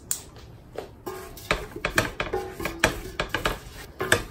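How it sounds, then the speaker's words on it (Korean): Chili powder being stir-fried in a pot, with a run of close, irregular scraping and clattering knocks of a utensil against the pot, moderately loud, in quick uneven succession with no talk. "그리고 불을 켜서 볶아주세요."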